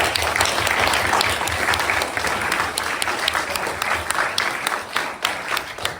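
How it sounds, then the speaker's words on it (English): Sustained applause from a crowd, dense and even clapping that carries on for several seconds without pause. "Give them a big round of applause."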